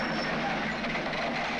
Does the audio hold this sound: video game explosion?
no